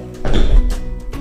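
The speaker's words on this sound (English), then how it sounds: "Advance, lunge. Hear the thump of the heel." Fencing footwork, an advance followed by a lunge, ending in a heavy stamping thump of the heel on the floor. It is a short, close, loud impact sequence, heard alone.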